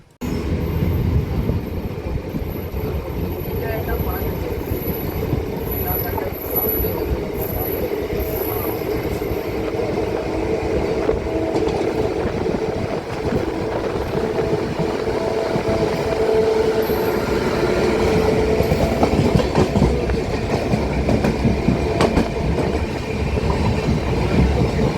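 Cholan superfast express running from Chennai Egmore toward Tambaram, heard from on board as a steady, loud rumble of wheels and carriages with faint squeals, continuous for the whole stretch with no talk.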